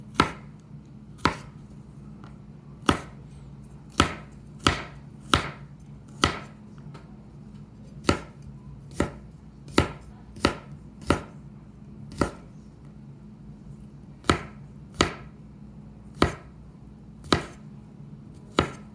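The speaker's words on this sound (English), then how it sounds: "You really just run a knife through it, roughly chop it," Vegetables for Korean beef being roughly chopped with a knife on a board: about twenty sharp, close knocks at an uneven pace, each standing alone against a quiet background.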